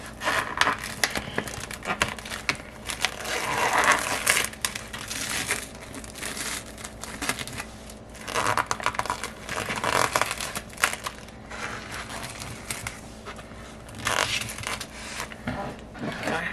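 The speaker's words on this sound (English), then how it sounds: "So now I'm going to open the salmon" Plastic packaging around fresh salmon is torn and peeled open with a run of close crinkling, crushing and crackling, irregular bursts of rustle over about sixteen seconds with no talk.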